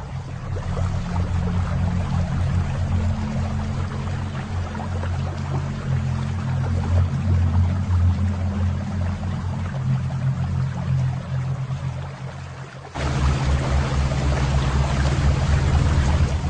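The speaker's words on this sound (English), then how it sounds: "The bilge pump discharges the liquid into the inlet chamber of the OWS." A bilge pump discharging liquid into the inlet chamber of a 15 ppm oily water separator, giving a steady loud mechanical hum and rushing flow that dips briefly before resuming unchanged, close and continuous.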